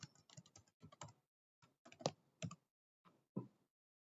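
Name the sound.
typing a password on a computer keyboard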